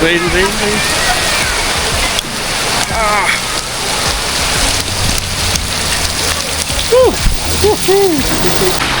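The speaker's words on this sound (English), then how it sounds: "Okay, rain." Heavy rain pours steadily onto hard surfaces in George Town, Penang, a constant splattering hiss with chirping birds or voices faintly audible beneath it.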